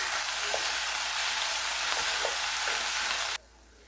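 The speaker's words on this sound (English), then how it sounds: "you want to break your ground beef up into crumbles, some nice even pieces" Ground beef fries loudly in a pan for taco soup and is broken into crumbles, with a continuous close sizzle and occasional soft scrapes of the utensil, ending abruptly near the end.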